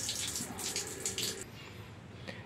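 Outdoors, water gushes from a hose draining a louhan fish aquarium: a continuous splashing rush that eases off and softens after a second or so, with no voices.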